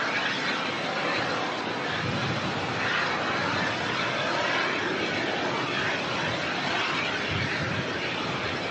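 Aircraft at Melbourne Airport, a steady broadband engine roar that stays at an even loudness throughout, distant and unbroken, with no talking.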